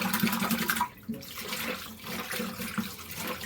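A toilet flushes, and the water gushes and swirls down the bowl in a close, rushing stream that dips briefly partway through.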